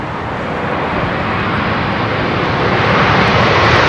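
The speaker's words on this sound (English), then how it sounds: "That's the F1 livery 787" A Boeing 787 in F1 livery lands on runway 27L at London Heathrow in a gusty southwest crosswind, its broad, loud engine roar building steadily and close, with no voices.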